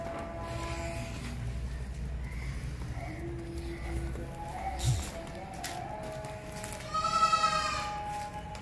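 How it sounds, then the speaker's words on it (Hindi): Goats, a red buck and a dark red doe among them, bleat at a livestock market before Eid, with a louder wavering bleat near the end over steady background crowd noise and faint talk. "ये फ्रंट पे बकरा खड़ा है, सेकंड पे बकरी है"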